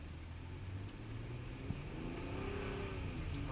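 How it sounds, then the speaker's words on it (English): A Ford Police Interceptor engine revs in a snowy, icy setting, a steady loud rumble that builds slightly toward the end with no talk over it. "I'll rev it up a little bit."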